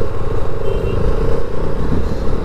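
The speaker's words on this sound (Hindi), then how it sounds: "तो चलो फिर निकलते हैं, आ जा भाई। तो जीशान बोल रहा है कि मैं थक गया इस बाइक पे" Motorcycle riding near Gulmarg, the engine droning loudly and steadily with a rough, fluttering rumble and continuous wind and road noise, no voices.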